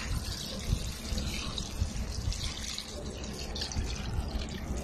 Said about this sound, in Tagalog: Lagyan lang natin siya ng tubig.